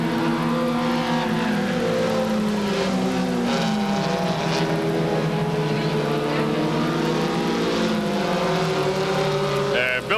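Stock cars race around the Bryar Motorsports Park oval in 1985, engines droning loud and steady with shifting pitch throughout, a commentator talking over the roar.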